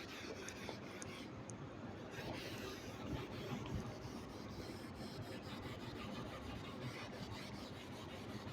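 A board being rubbed clean during a classroom biology lecture on protein digestion: a steady dry scrubbing and rasping that runs continuously, fairly faint and close, with no talking.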